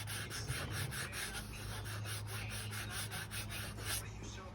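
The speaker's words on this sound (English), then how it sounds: "then just sand right in those areas" Sandpaper rubs by hand over a leather steering wheel in quick back-and-forth scuffing strokes, a soft rhythmic rasp repeating about every quarter second, faint and close.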